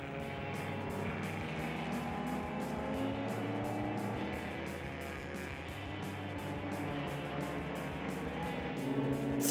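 Race cars including a Porsche 996 GT3 Cup racing on a circuit, a steady wash of engine roar heard at a moderate distance, swelling as cars pass and rising at the end.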